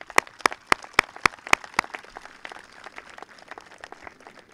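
A graduation audience breaks into applause, a few sharp, loud claps standing out at the start before the clapping thins into a softer, scattered patter.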